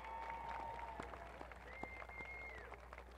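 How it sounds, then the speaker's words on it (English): Faint, sparse clapping at a 2023 Cahokia High School graduation ceremony, a few scattered claps with a thin whistle-like tone drifting over quiet room ambience. "We would like to recognize and give a round of applause to the support system"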